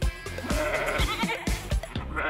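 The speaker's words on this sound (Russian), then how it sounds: "Семья коз." Goats in a farm-animal recording bleat in a quick series of loud, close, wavering calls, several overlapping with short pauses between, and no talking.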